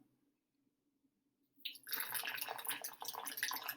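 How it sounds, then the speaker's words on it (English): Quiet low hum, then from about halfway a loud, busy gush of water poured into a clay and sand mix, bubbling and splashing steadily to the end. "Now it's bubbling. Uh-oh, it's bubbling."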